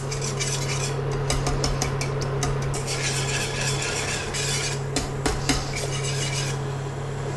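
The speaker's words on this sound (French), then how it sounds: "je casse un petit peu avec le fouet, vous voyez, tous les petits morceaux" A whisk scrapes and clinks steadily against a pan while breaking a courgette cooking mixture into small pieces, rhythmic metallic rasping over a steady low hum from the stove.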